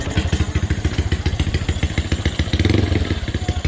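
A Honda Wave 110i motorcycle engine with a 53 mm piston runs close by with a rapid throbbing putter, briefly revving louder toward the end.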